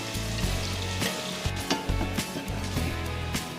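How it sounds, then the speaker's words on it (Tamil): Thinly sliced onions with salt fry toward brown in a pan, a continuous close sizzle with occasional stirring knocks beneath steady background music. "இதை வந்து இது கூட சேர்த்து நல்லா ப்ரௌன் வரணும், அந்த மாதிரி நல்லா ஃப்ரை பண்ணிக்கலாம்."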